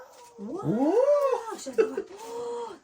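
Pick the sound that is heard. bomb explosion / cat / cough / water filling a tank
cat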